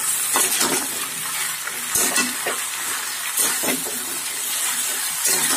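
Bottle gourd stems and mixed vegetables fry in hot oil with salt, sizzling steadily and close up, broken by repeated scraping and stirring strokes in the pan; no voices.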